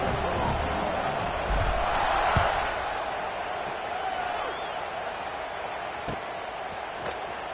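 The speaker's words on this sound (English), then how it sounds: "this crowd is feeling themselves after that last drive" Stadium crowd at a Tennessee vs. Mississippi State college football game keeps up a steady, distant roar during a kickoff, under a commentator's play-by-play.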